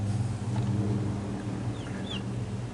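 Ameraucana hens and roosters cluck in a coop, with a couple of higher calls rising over a steady low hum of background noise.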